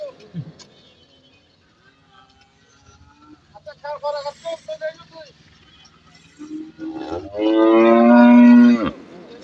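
A calf at a cattle market gives a long, loud, close moo near the end, after a stretch of people talking and shorter calls amid market bustle.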